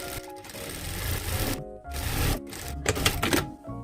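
Sewing machine stitching a padded hood jumper's hood lining to its outer fabric, a steady mechanical whirr broken by short pauses between runs, close and fairly loud with no talking.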